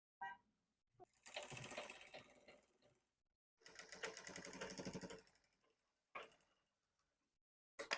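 A sewing machine top-stitching over an earlier seam while hemming the stiff patti of a blouse runs in two sustained bursts of fast rhythmic clatter, with brief clicks in between and after, no talking.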